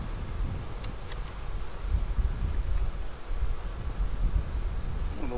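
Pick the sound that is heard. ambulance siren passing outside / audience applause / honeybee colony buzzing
honeybee colony buzzing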